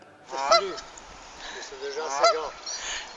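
Two loud nasal goose honks ring out about two seconds apart, with softer honking calls between and after them, close by.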